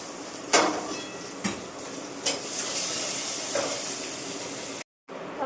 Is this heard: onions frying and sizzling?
yes